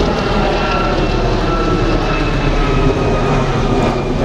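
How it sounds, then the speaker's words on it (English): A helicopter flying overhead produces a loud, steady, continuous engine roar that stays constant throughout, heard alone without talk. "The helicopters always follow me."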